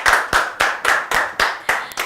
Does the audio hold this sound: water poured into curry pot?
no